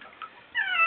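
A wet cat yowls during a bath, a short strained meow swelling loud and close at the end after quieter fussing noises.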